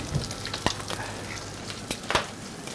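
Sisig, a sizzling pig head dish, crackles on a hot plate as egg is added, a steady close fry with a few sharper pops and spits standing out, no voices present.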